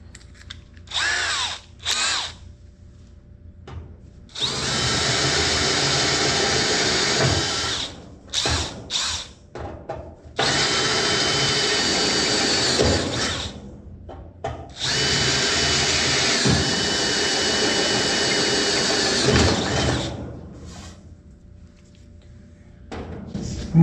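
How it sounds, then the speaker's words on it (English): A power drill with a step bit runs in three long, steady bursts, biting through a metal hot rod panel, with shorter spurts of whirring and clicks between them. "I'm gonna just drill the 2 holes right now just to see what it does."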